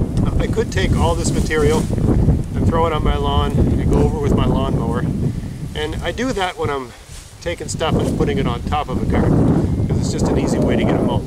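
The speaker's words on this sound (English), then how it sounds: "sorry for the wind, I know it's windy right now." Wind rumbles and buffets the microphone continuously while someone talks over it at close range.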